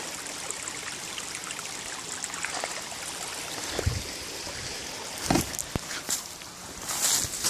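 Cold water trickling and burbling in a small stream on rural land, a continuous close-up flow with a few louder splashes and rustling steps near the end, no talking.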